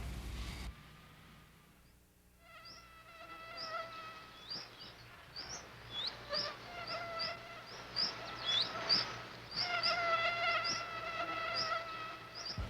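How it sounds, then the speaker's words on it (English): A swarm of mosquitoes at a riverside camp in Kamchatka whines in thin, wavering tones that swell and fade as insects drift close and away, over a quiet outdoor background. "the mosquitoes came in clouds"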